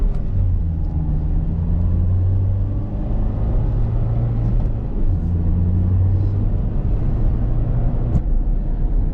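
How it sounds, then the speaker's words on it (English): A Honda car with VTEC under a hard pull, its engine droning steadily and loudly from inside the cabin with a deep rumble and a sustained tone throughout, with no talking. "I'm gonna go ahead and just show you guys some pulls in these cars"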